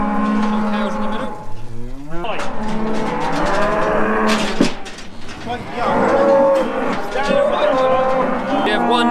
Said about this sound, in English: A whole run of calves right now. Some cows in the middle.